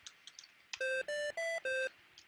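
A vintage computer running a custom Forth-style word plays a short tune of four clear electronic tones, each a sustained square-wave beep of equal length with brief gaps, loud against a quiet background with faint clicks before.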